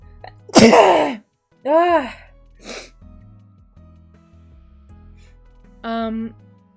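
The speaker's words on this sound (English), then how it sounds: "I just sneeze" One sharp sneeze bursts out, followed by a few short voiced sounds and breaths with quiet gaps between them.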